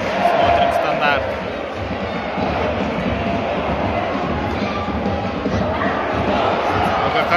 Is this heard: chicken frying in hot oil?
no